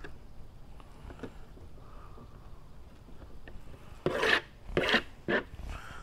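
Knife flaying the skin off a flathead catfish fillet, soft close scraping strokes that build into three louder rasping pulls near the end, with quiet background noise.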